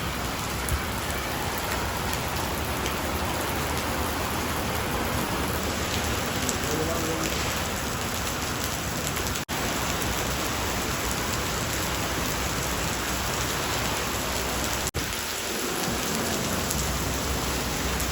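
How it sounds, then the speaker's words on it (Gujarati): Heavy rain drums steadily on a metal sheet roof, a dense, loud, continuous patter that fills the whole stretch without letup, heard close from underneath the roof. "આ પતરામાં છે ને વરસાદનો અવાજ બહુ એટલે બહુ જાજો ગાજે"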